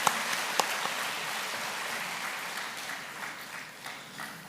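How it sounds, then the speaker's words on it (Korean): Seniors of Uijeongbu church being applauded at a church silver camp in Gangneung, a steady wash of clapping from the congregation, fairly soft and even, with a few sharper claps standing out near the start. "다시 한번 기쁜 소식 의정부교회 실버들에게 큰 박수 부탁드립니다"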